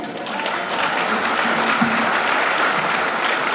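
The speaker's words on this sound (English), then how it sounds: "Please give them another big round of applause" An audience at a community gathering breaks into sustained applause, a thick, even roar of many hands clapping with a faint tone briefly sounding underneath.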